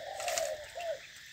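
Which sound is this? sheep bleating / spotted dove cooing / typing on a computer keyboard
spotted dove cooing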